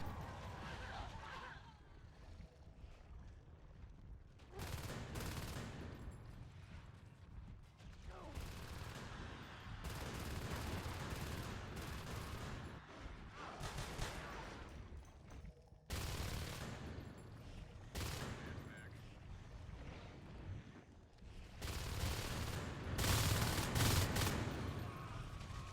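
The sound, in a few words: rifle gunfire in video game Natural Selection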